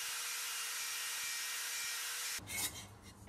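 The inside of a copper model boiler part is cleaned up for silver soldering, making a steady close abrasive rubbing for over two seconds before it breaks into a few scraping strokes.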